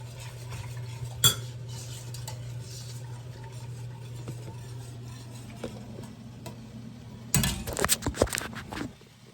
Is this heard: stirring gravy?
yes